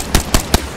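Three quick, sharp bursts from a machine gun in a video game ring out, evenly spaced and close, over a steady background hum.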